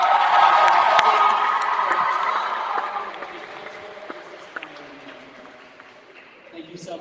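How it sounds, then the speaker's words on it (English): Audience applause and cheering at a summer camp creative writing showcase: a loud burst of crowd noise with whoops that gradually fades into scattered claps and murmuring voices. "Not only a round of applause for our final two readers, but a round of applause for all of Olean creative writing."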